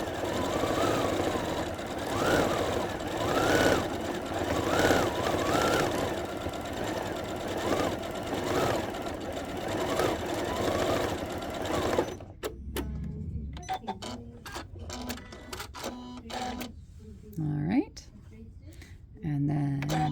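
A sewing machine free-motion quilts a signature onto a quilt with a fast, steady whirring stitch and a rhythmic hum. It then stops, leaving scattered clicks and handling noises while someone talks.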